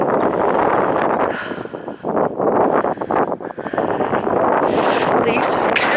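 Wind blows across an open hilltop at Cheddar Gorge with heavy gusts buffeting the microphone. The roaring whoosh rises and falls in surges, and people talk through it.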